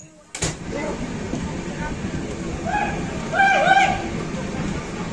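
Jammu Tawi Express passenger train pulling into Koderma Junction station, a steady rumble of carriages with rising squeals and brake screech, station hubbub and voices murmuring in the background.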